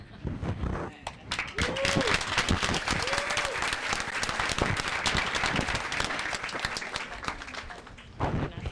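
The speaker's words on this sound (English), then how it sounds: "we could clap for Miss Barrett." A room of people applauds Miss Barrett at a school board of education meeting, dense sustained clapping for several seconds, steady and fairly loud, with a few voices and exclamations rising through it.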